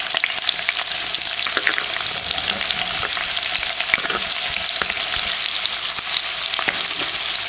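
Chopped onion with curry leaves sizzles steadily in hot vegetable oil, a close, dense crackling frying sound with occasional stirring clicks throughout.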